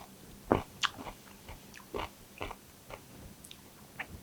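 Crunchy bites into a homemade fermented cucumber pickle come as a string of close, crisp snaps and soft chewing, spaced about half a second apart in a quiet room.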